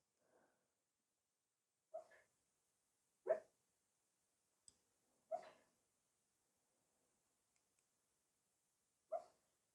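A sleeping dog dreams, letting out soft muffled whimpers and about five short, quiet barks spaced apart over near silence.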